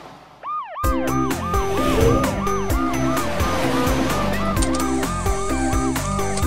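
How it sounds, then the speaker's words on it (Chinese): A cartoon police car siren wails in quick rising-and-falling sweeps that repeat steadily, loud and up front over a bouncy children's song backing track. "超雷达警车，雷克。"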